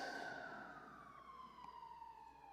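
A wailing emergency siren sweeps slowly downward in pitch, steady and fairly loud, with no voices over it.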